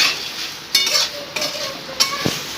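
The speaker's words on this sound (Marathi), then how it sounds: "आता सगळं व्यवस्थित आपल्याला मिक्स करायचं आहे 5 मिनिट" A spoon stirs puffed rice chivda with roasted peanuts, dal and powdered sugar in a pan, making a soft rustling scrape with a few sharp clinks, close and alone.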